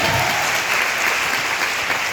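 A room full of people claps at a family speech honoring a father, a dense, loud and steady wash of applause filling the short stretch without a break.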